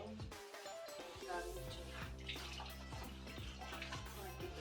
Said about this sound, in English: get as much water out of the fabric as possible